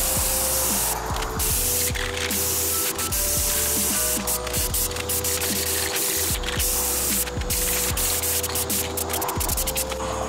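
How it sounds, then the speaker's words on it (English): A Rust-Oleum matte clear enamel aerosol is sprayed as a clear coat over a tree-bark camouflage paint job on a predator platform, giving a steady close hiss in repeated bursts with a low background hum. "clear coating it with is this Rust-Oleum matte"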